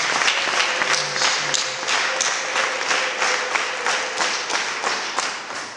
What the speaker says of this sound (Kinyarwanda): Dukomere Imana yacu amashyi tuyishimire.